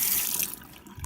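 Water runs from a tap onto a wall surface being prepared for an adhesive hanger, a steady close hiss that thins out toward the end with a brief low splash.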